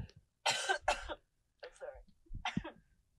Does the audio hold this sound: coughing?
yes